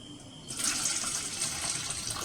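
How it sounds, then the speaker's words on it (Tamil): Weight loss juice is poured through a filter, a steady close splashing stream of liquid that starts suddenly and continues without a break, with no voices. "ஃபில்டர் பண்ணி தான் சேர்த்துக்க போகிறேன்"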